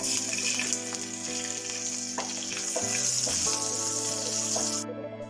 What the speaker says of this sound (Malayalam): ആദ്യം ഈ മുളക് ഫ്രൈ ചെയ്തെടുക്കാം